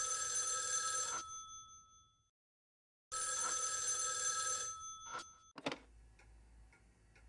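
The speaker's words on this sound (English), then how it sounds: "Someone or something wants us to answer the phone, so why don't you take the call?" A telephone rings in the Spirit Hunter: NG video game: two long loud electronic bell trills separated by a second of silence, then a few clicks and a clunk as the receiver is picked up.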